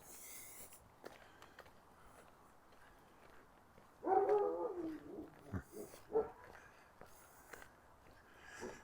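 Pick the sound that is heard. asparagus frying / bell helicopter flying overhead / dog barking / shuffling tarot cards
dog barking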